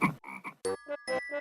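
A frog croaks in a series of short, distinct calls, about six pulses in quick succession, close and clear with no talking.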